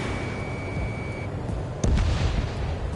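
Anti-air fire and explosions from the Ace Combat 7 video game: a steady rumbling battle bed of gunfire, with a sharp, loud blast near the middle followed by a heavier booming tail.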